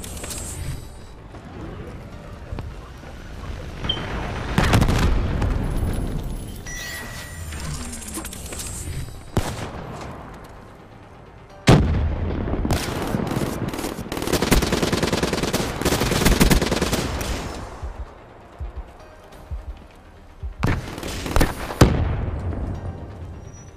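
Rapid automatic gunfire from Call of Duty Black Ops III multiplayer, loud bursts of rattling shots in several separate volleys with short quieter gaps between them.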